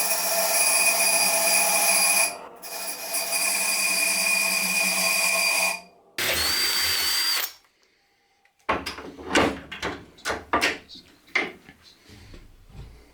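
A drill whines steadily for several seconds while a drill bit is being reground, cuts out, then starts again, followed by a run of sharp clattering knocks and scraping metal.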